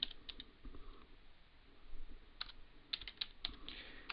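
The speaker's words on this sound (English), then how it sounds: "So I'm going to type in host name," A command is keyed on a computer keyboard while configuring a Cisco router, with quiet, close clicks in short bursts separated by pauses.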